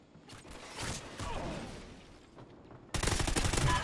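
A sentry gun in the Call of Duty Ghosts video game opens up with a loud, rapid burst of automatic fire at the end, after a stretch of muffled game noise and scattered shots.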